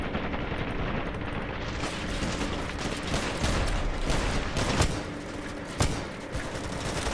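In the video game Ravenfield, artillery fire and explosions build into a dense, continuous roar, with sharp blasts standing out near the end and no talk.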